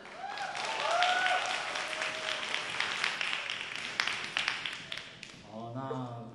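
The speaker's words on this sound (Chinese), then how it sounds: "我们掌声欢迎他们。" An audience at a university group music competition gives sustained applause to welcome performers, the dense clapping swelling and then tapering while a voice speaks over it and brief tones sound near the end.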